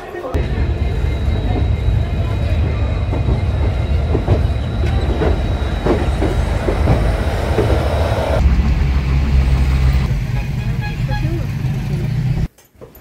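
A train rumbles steadily along the rails into Santragachi station, a loud close clatter of wheels with some faint talk, easing into a lower rumble before cutting off.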